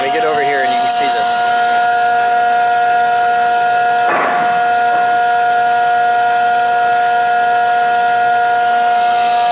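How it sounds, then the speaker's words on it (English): Air pumped through an opened gas meter gives a loud, steady hiss with sustained whistle-like tones running throughout and a brief rougher burst partway through. "This is what's happening inside your gas meter right now. All we're doing is pumping air through it."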